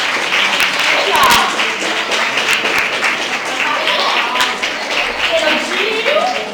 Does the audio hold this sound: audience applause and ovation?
yes